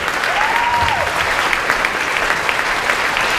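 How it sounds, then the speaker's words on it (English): A group gives a round of applause for campers, with dense, steady clapping that holds at an even level for a few seconds, broad and continuous with no voices standing out. "Let's give a huge round of applause to our campers here."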